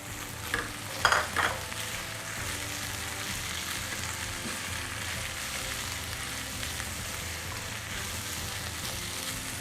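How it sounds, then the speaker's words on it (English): Carrots and scotch bonnet peppers frying in a pot, a steady continuous sizzle with a couple of brief stirring scrapes near the start, with no talking. "cook for about a minute before I add in my peppers."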